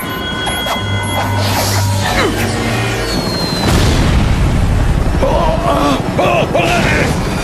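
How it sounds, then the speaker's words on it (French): A loud bomb explosion booms and crashes, followed by sustained rumbling and debris-like noise, with a voice audible alongside it. "la bombe"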